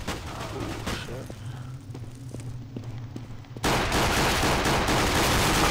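Gunfire in Counter-Strike: Global Offensive, with a few sharp shots ringing out over a low game ambience before a loud, dense burst of firing takes over near the end.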